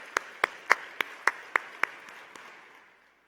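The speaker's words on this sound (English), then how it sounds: "Big round of applause for all our speakers today." Scattered audience applause for speakers, about eight sharp separate claps spaced evenly, thin and fairly quiet, fading out at the end.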